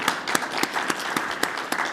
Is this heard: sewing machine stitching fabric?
no